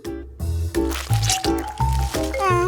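Food dipped into a chocolate fountain makes a series of about six wet, rhythmic squishes and gloopy drips, close and fairly loud, with tonal voice-like sounds running underneath.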